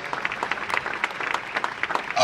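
A congregation clapping at a funeral service, dense fast applause under a raised voice, fairly close and moderate in volume, ending with a louder swell.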